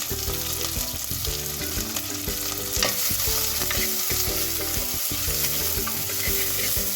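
Onions and green chillies crackle and sizzle in hot oil for tempering greens, steady and close, with occasional scrapes of stirring and no talking.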